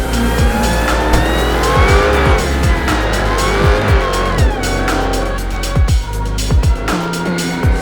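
A 2020 Dodge Charger SRT Hellcat Widebody, a 707-horsepower sedan, launching hard with launch control: a loud, close engine roar rises through the gears while the tires squeal continuously.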